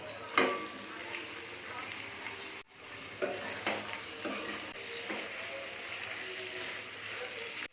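Country chicken meat sizzles and fries in hot oil with cumin, onion paste, ginger-garlic paste and masala, with a steady crackle, occasional sharper spits and stirring clatter throughout.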